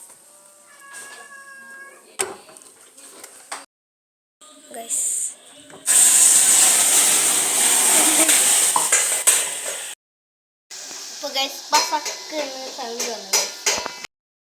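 Hot caramel syrup for a dates cake hisses and sputters loudly for several seconds as water is added, set among quieter clinks and kitchen noises, with abrupt silent cuts between short sections.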